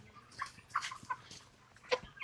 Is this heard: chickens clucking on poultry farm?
yes